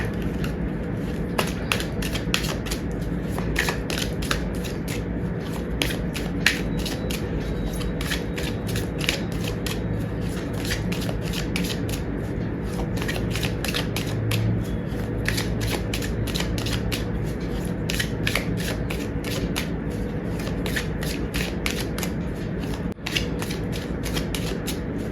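A deck of tarot cards is shuffled on and on in a rapid, even patter of crisp flicks and riffles, close up and steady with no talk.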